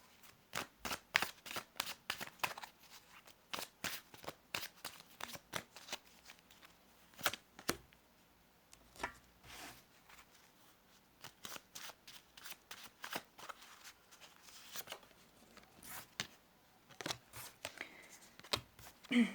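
Tarot cards shuffled by hand in quick, uneven bursts of crisp riffling and slapping, close and fairly quiet, running almost continuously with short pauses.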